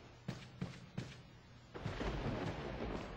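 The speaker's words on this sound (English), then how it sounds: "I heard lightning. I mean thunder." Thunder from a storm, three dull booming thuds followed by a longer low rolling rumble, fairly faint against a quiet background.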